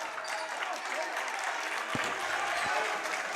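Applause and crowd noise fill a gym at a high school boys' varsity basketball state tournament semifinal, a steady wash of clapping with a couple of sharp thumps near the end.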